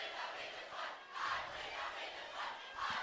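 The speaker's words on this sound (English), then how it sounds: "You can hear the fans to the left of us, the student body" Student fans at a high school football game roar and chant in waves, a sustained crowd noise swelling and fading near the end of the game, heard from the side at moderate distance.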